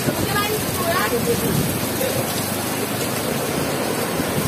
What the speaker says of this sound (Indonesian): badainya sudah mulai lewat, tapi hujan masih belum berhenti